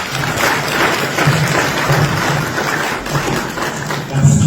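An audience at a book dedication event claps continuously, a dense patter of many hands that stays steady and fairly loud across the moment, with faint voices mixed beneath.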